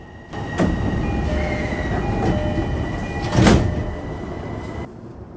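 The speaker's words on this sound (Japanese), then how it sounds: "上尾駅を発車" Train pulling away from Ageo Station in Japan, a continuous rumbling roll with rattling carriages and a few brief squeaks and clunks, swelling midway and then fading as it moves off.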